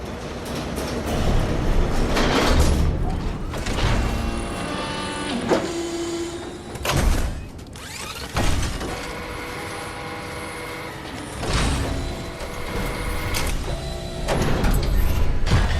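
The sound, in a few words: door opening in the video game Kingdom Hearts III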